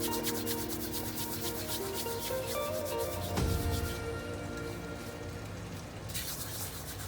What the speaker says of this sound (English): you just put them between your palms and you just crush it like this.